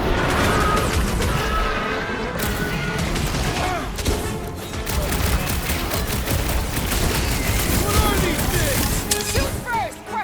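Dense, chaotic gunfire in the action video game Marvel's Guardians of the Galaxy crackles in rapid bursts and impacts throughout, loud and continuous with combat clutter.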